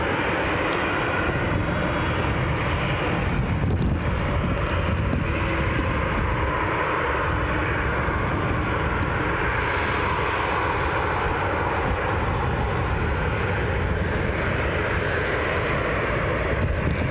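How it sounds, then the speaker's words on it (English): A Ryanair Boeing 737 departs Newcastle International Airport in the early morning. A loud, steady jet-engine roar fills the whole stretch without a break. "So, some good early morning action for us with this Ryanair 737"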